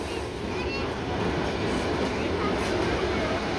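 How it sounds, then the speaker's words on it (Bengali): The Rupashi Bangla passenger train at the station, running Narail to Benapole: a loud, steady rumble of rolling carriages with faint wheel clatter, continuous for several seconds, with voices of a crowd mixed in. "রূপসী বাংলা ট্রেনটি, যেটা দিয়ে আমরা বেনাপোল যাব।"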